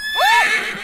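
A single horse whinny, rising then falling in a quick, shrill call, close and fairly loud with no voices.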